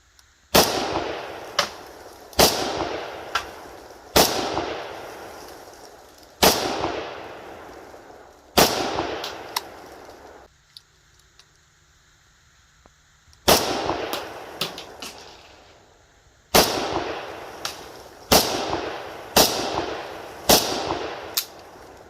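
AK-74 rifle in 5.45x39 fired with a Bakelite magazine, loud sharp shots spaced singly and in quick pairs, echoing outdoors, with a longer pause midway before firing resumes.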